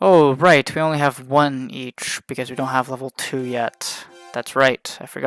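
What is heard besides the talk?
No everyday noise stands out behind the speech.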